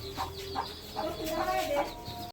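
A hen clucks near her six chicks, only two or three days old, in a farmyard: a run of soft, repeated close clucks.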